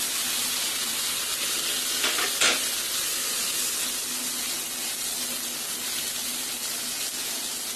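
Mashed potato stirred with spices and carrot in a frying pan with a little oil, a constant loud sizzle with brief scraping stirs near the start, no talking.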